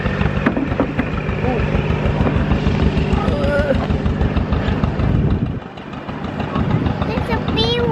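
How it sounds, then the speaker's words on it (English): A farm tractor engine rumbles steadily in a low, pulsing idle throughout a tractor ride, briefly dipping near the end, while people talk nearby. "We're gonna go on a tractor ride."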